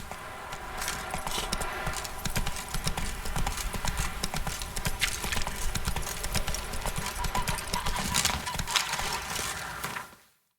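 Roach the horse trots along in The Witcher 3, hooves clip-clopping in a continuous, even rhythm at moderate volume until the sound cuts off abruptly near the end.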